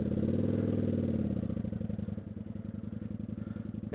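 A cruiser motorcycle engine idling and burbling at low revs as it is walked slowly through a U-turn on a loose road, a steady close thumping rumble that settles slightly lower partway through.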